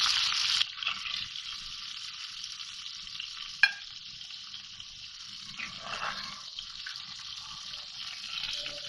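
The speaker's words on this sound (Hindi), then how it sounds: "और मैं फ्राई करती हूँ दूसरे वाले भी" Chandan kababs frying in oil in a pan, giving a steady close sizzle throughout with a sharp clink near the middle and some soft stirring movement, no voices.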